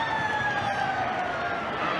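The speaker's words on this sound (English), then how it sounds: "he ran it dead because he heard the siren" Ground siren sounding to end the first half at a 1991 NSWRL rugby league match between Parramatta and Manly, a steady wailing tone running through the whole moment over loud crowd noise.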